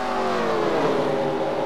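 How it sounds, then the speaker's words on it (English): A NASCAR race car engine in a video game at Texas drones in a loud, steady, harmonic-rich whine, close and continuous throughout. "I can hear his engine from here."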